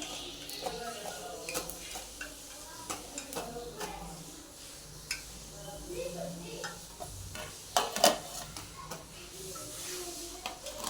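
Bottle gourd puris finish frying in hot oil, a soft continuous sizzle with scattered clicks and utensil taps, moderately close, with occasional faint talk.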